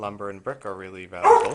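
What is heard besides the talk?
dog barking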